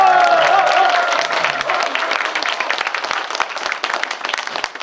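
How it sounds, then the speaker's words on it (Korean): An audience at a Korean Democratic Party members' meeting in Jungnang bursts into loud applause that starts strong and gradually thins into scattered clapping over several seconds. "그런 뜻으로 크게 박수를 한번"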